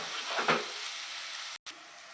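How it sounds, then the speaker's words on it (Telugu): Onions frying in a pan for a salted fish and egg curry, a steady soft sizzle and hiss with a brief stirring scrape and a momentary cut in the sound near the end. "ఇప్పుడు ఉల్లిపాయలు ఫ్రై చేసుకుందామండి."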